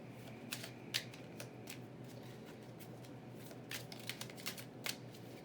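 Tarot cards shuffled by hand in a quiet room, a steady papery riffle with sharper flicks and snaps scattered through, close and moderately soft throughout.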